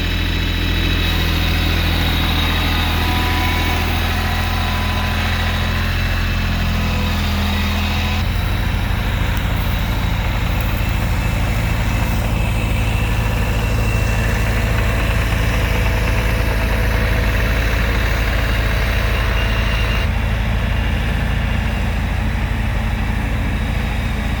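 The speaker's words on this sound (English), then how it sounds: "I'm driving around on the compact tractor" A compact tractor's engine runs steadily and loud throughout, a continuous low mechanical drone with a slight shift in tone partway through, heard alone with no talk.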